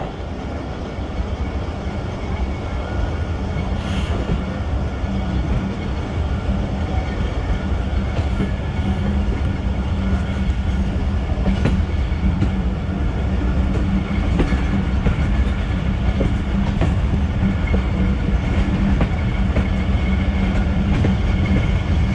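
A 130DN Thal Express passenger train rolling from Rawalpindi toward Multan, heard from aboard: steady, loud rumble of the carriages with rhythmic clickety-clack of wheels over rail joints throughout, no talk.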